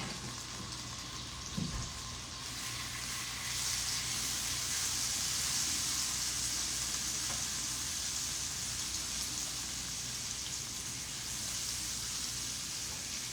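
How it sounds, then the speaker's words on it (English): Minced garlic sizzling in melted butter in a pan, a steady hissing fry that swells slightly and holds throughout, with one faint knock near the start. "the butter, we add the minced garlic"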